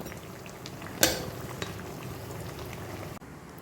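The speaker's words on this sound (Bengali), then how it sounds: "মোচার চপগুলো খুব সুন্দরভাবে আমাদের ফ্রাই হচ্ছে" Mochar chop, banana flower croquettes, fry in hot oil with a quiet steady bubbling hiss, a single sharp clink of a utensil near the start and another soft knock later.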